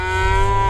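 A single cow gives a short, steady, loud moo close by while being gathered for processing.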